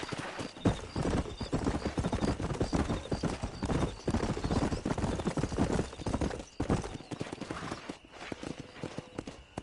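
A horse galloping in the Red Dead Redemption video game, rapid thudding hoofbeats in a continuous driving rhythm with a whinny, loud and close, with faint voices in the background.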